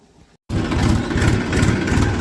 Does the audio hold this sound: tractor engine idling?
yes